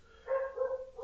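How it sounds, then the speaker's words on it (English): A dog gives a brief, muffled bark or whine in the background, faint and somewhat distant, with no talking over it. "please excuse the dog barking in the background"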